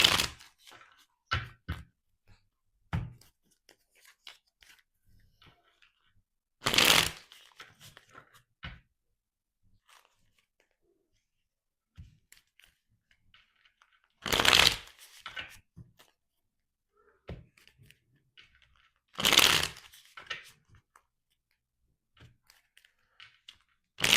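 Tarot cards are shuffled close by in three long riffling bursts spread across a quiet stretch, with scattered small taps and card handling in between.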